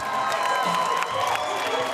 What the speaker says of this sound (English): Half the crowd was assigned to cheer for Gainesville.